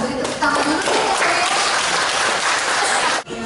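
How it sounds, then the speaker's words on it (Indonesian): Audience at a morning talk on effective communication breaks into applause, a dense wash of clapping that holds steady for a few seconds before cutting off abruptly near the end. "Kita beri tepuk tangan dulu."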